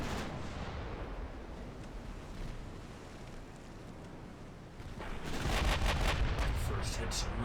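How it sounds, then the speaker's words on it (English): Naval artillery broadside in the Ultimate Admiral Dreadnoughts game: a steady rumbling wash of distant gunfire swells into a louder, heavier burst of booming salvos toward the end. "Give me a full broadside on the cruiser."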